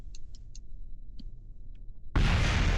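A sudden loud explosion in the spaceflight video game Kerbal Space Program. A full, roaring blast follows a near-silent stretch of faint ticks and beeps.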